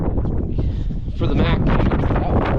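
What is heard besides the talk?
strong wind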